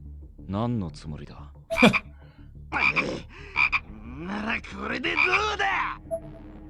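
Frog croaking in Corpse Party Blood Drive, several rough, creaky croaks in irregular bursts, moderately close and fairly loud, with short gaps between calls.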